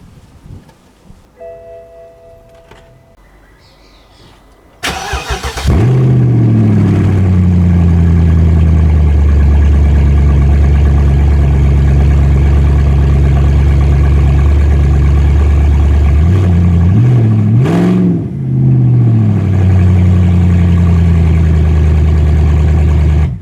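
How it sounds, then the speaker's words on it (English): A BMW 7-Series V8 running with no exhaust fitted cranks and fires after a quiet start, then settles into a loud, raw, rumbling idle with a brief blip of revs near the end. "The question is how the V8 engine sounds without exhaust."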